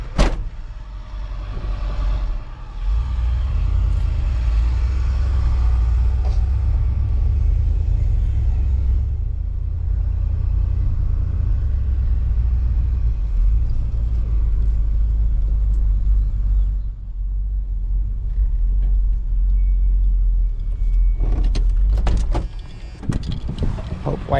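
A parked bus with its engine left idling to recharge produces a heavy, steady low rumble that runs for over twenty seconds, easing briefly near the end before some clatter and movement.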